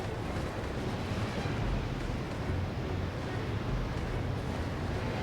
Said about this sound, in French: Une tempête de sable dans le ciel.